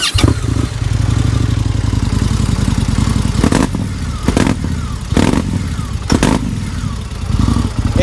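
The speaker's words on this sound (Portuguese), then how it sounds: "Aqui é um sistema SNS com um barulho muito característico." An Indian Scout motorcycle fitted with an aftermarket SNS two-into-one exhaust runs loud and close, a deep steady throbbing idle broken by several sharp revving blips.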